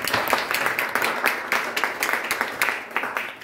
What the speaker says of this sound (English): give a big round of applause for our wonderful panel